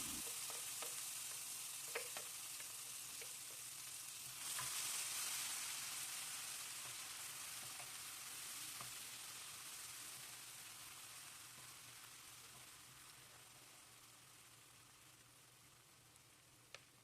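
Sambal chili paste sautés in oil in a pan, giving off a steady, fairly quiet sizzle with faint stirring scrapes and occasional clicks, slowly fading over time.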